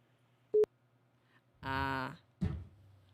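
A phone busy signal sounds after the caller hangs up, heard as a brief tone beep, followed by a short voice and a thump in a quiet room.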